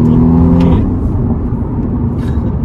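A 2021 BMW M135i engine rumbles from close by inside the car, with a brief revving tone at the start settling into a low, steady growl as speed builds.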